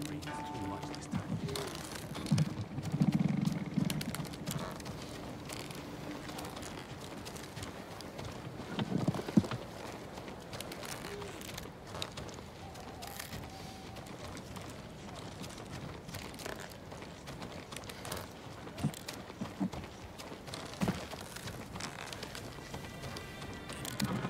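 Horse hooves clip-clop in the game Ghost of Tsushima, a faint steady walking rhythm under music and spoken dialogue.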